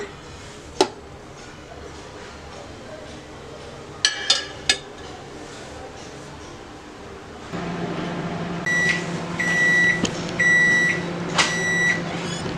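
A microwave oven hums as it cooks tandoori fish, with a few clinks early on, then a louder steady drone with repeated electronic beeps near the end.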